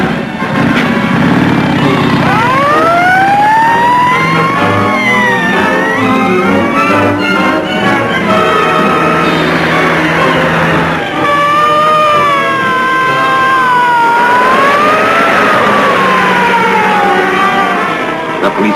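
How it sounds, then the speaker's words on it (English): A police car siren rises and falls in long sweeping wails during a chase, loud and continuous over engine rumble and music. "The police car's gaining on us."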